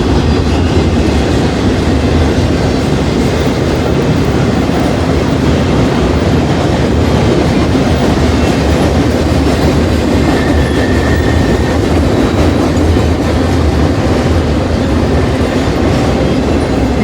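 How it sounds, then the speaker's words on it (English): An intermodal freight train rolls steadily past in a rail yard setting, with a continuous loud rumble and faint wheel clatter sustained throughout, close by and without talk. "It's going underneath this intermodal train."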